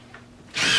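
A power drill drives a number 8 three-quarter-inch hex head sheet metal screw while a mini blind bracket is fitted, starting with a quiet lead-in and then a loud, sudden whir.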